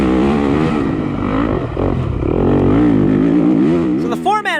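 A four-stroke enduro motorcycle at a sprint enduro revs loudly and close, its pitch rising and falling as the throttle is worked, then climbing sharply near the end, with speech mixed in.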